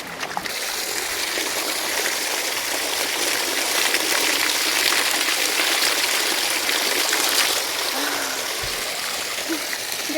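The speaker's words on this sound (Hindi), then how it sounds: "इस गदेरे में देखो भाई कितना सारा पानी आ रखा है ये" A mountain gully stream swollen with rainwater rushes in a steady, loud roar that holds without a break throughout.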